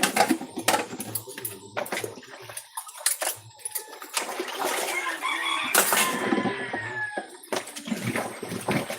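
Chickens cluck in bursts near the listener, mixed with scattered clatter and household noise. The calls are intermittent and moderately loud.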